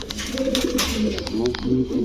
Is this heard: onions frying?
no